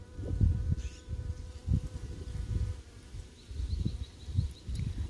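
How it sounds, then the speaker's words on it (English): A bee buzzes close by outdoors, its drone swelling and fading in repeated passes over about five seconds with no voices. "I have a little bee that's hanging out with me."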